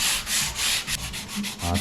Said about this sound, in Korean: 이거를 샌딩을 할 건데